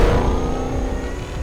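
Supercharged Ford Mustang Dark Horse CS800DH V8 growling steadily at a sustained rev, loud and close, a dense low rumble with no pauses or voices.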